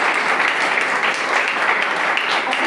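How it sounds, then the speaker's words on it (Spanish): A church congregation at a Sunday Bible school service applauds loudly and continuously, a dense, even roar of many hands clapping at close range. "Aplauda al Eterno."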